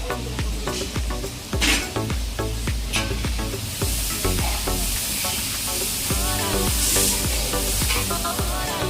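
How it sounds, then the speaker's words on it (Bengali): Eggs frying in a pan with a loud, continuous sizzle and crackle, steady throughout, with clatter of stirring and cooking. "আর এদিকে আন্দা বাড়া চলে"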